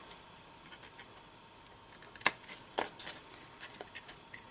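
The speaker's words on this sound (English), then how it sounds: "just go through and trim all those out" Scissors trim out the corners of a paper pumpkin box for a craft project, with a few quiet sharp snips and papery rustles spaced irregularly and close by.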